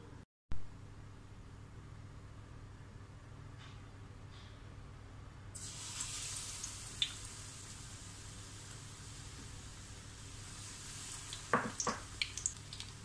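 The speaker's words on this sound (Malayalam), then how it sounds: "ഇനി നമുക്കിത് എണ്ണയിൽ പൊരിച്ചെടുക്കാം." Sliced potatoes for Kerala-style bajji fry in hot oil, a steady broadband sizzle that swells after a few seconds and carries scattered pops and brief clatters near the end, with no talking.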